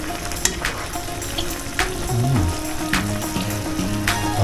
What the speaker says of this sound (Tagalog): So ayan na siya, kumukulo na siya.